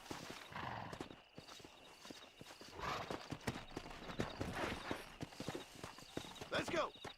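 A horse's hooves pound in a rapid galloping rhythm in the Western video game Red Dead Redemption, fairly quiet but continuous over several seconds, with a brief whinny mixed in.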